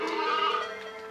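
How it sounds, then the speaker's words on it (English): A single sheep bleat from the Toy Story 2 video game, a short wavering call heard clearly and alone for about a second. "here is your sheep"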